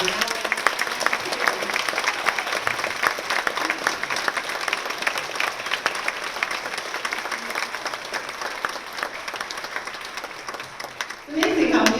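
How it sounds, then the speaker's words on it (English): An audience at a public library presentation on World War I and America gives a sustained round of applause, dense clapping throughout that thins toward the end before a voice begins speaking. "Please join me in one more round of applause for Valerie"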